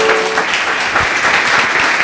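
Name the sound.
church congregation applauding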